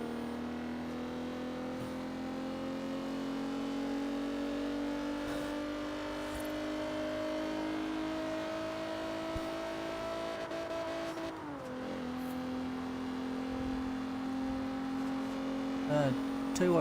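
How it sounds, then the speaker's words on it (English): Alfa Romeo 8C Competizione engine in the racing video game Forza Horizon 3, a steady sustained drone that shifts pitch near the end, running continuously at moderate level with a voice speaking over it. "But this car, even though it's a little 4-cylinder, might be a straight 6, but it sounds really good."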